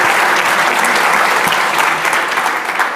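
Conference audience at SREcon16 Europe applauding a guest speaker, loud, dense clapping from a large crowd that carries steadily for a few seconds before easing slightly at the end.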